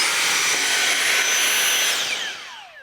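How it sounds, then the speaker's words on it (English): A handheld vacuum tool used to pull modules off an LED video wall gives a loud, steady high-pitched whine and rush, then winds down with a falling tone as it switches off. "Your order comes with a vacuum tool, which you use to remove modules."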